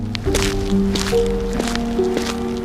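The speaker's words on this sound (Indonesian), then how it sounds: "suara langkah air terdengar dari samping rumah, seperti kaki basah naik ke papan teras" Wet, squelching footsteps climb onto the wooden porch boards of a floating house on the Mahakam River, several soft steps close by over a steady low tonal drone.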